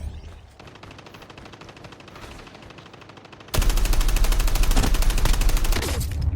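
Gunfire in Call of Duty Mobile: rapid automatic bursts, quieter and more distant at first, then a sudden loud, dense stream of close shots that continues to the end.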